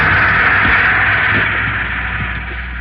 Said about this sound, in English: Those are the sounds of a railroad repair shop